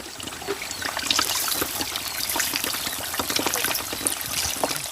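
Clear spring water trickles and splashes steadily from a source uphill, a bright continuous flowing sound up close with no voices.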